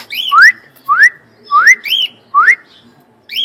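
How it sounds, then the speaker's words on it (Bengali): A talking myna bird gives repeated rising whistles, five or so sharp, clear calls in a regular rhythm with short pauses between, close and loud. "এটা কথা বলা ময়না ভাই"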